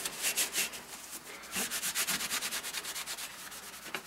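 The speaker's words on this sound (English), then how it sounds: "Grab another one and we'll just try and do a final rub over" Rubbing and scrubbing over dusty, smoke-stained metal computer parts, a steady series of rhythmic scratchy strokes, close and fairly quiet, with no talking.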